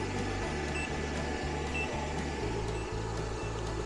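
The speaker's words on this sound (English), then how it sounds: "we hear the inverter beeping over here" A power inverter beeps steadily, pulsing at a regular rhythm over a constant low hum during a capacity test of a 12V 100Ah LiFePO4 lithium battery, moderately faint and nearby.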